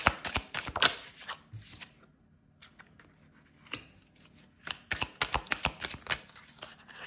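Tarot cards being shuffled and handled, clusters of sharp close riffling and flicking snaps, then a quiet pause before another run of quick card-shuffling bursts.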